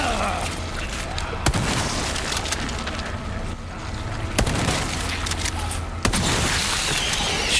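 Three heavy shotgun blasts go off in Resident Evil 4 Remake, each a sharp, booming report spaced a few seconds apart, over a constant rumbling game ambience.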